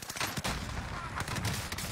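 Rapid bursts of gunfire from a grenade launcher in the Warzone shooter, dense and loud, with repeated sharp blasts layered over a busy battle din across the short stretch.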